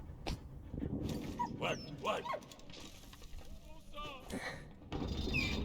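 A dog in the Valiant Hearts war video game yips and whimpers in short bursts over game sounds and mechanical noises, while someone talks over it throughout.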